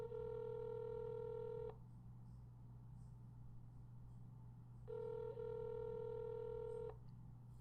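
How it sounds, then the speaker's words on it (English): A telephone dials out as a call is placed, giving two long steady tone bursts separated by a pause over a constant low hum, close and clean with no voices. "We're going to call Phil up and see if he answers"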